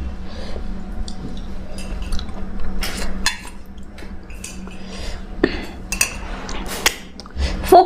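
Fork and spoon clinking and scraping on dishes while eating dal chawal, momos and dahi vada: irregular close metallic taps and chinks, some sharp and bright, over low background hum.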